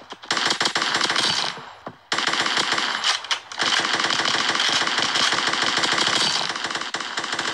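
Automatic gunfire in a Kuboom shooting video game rattles on in long, loud, rapid bursts, with only brief pauses near the two- and three-and-a-half-second marks.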